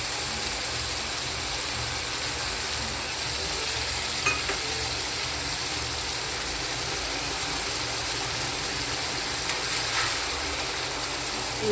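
Potato curry sizzles steadily in a pan as yogurt goes in, with stirring scrapes and occasional clinks of a utensil over a constant frying hiss throughout.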